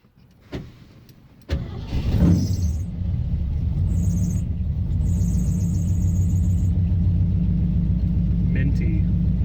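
A car fitted with a Holley-style vacuum secondary carburetor starts with a couple of sharp clunks, then settles into a close, steady engine rumble that runs continuously, with faint higher tones drifting over it.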